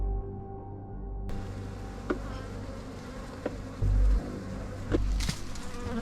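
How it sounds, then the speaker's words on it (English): A dense colony of African honeybees fills a hive built under a pool pump lid, their buzzing a steady close drone throughout, with a few sharp knocks and a brief louder thump partway through. "the bees had built across the entire underside of the lid and down the sides"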